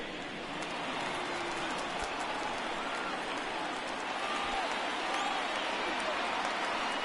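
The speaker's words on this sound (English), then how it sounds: "Crowd on their feet here in D.C." Simulated baseball crowd in MLB The Show 19, a Nationals home game in Washington, D.C., producing a steady dense roar of cheering that holds at an even level throughout.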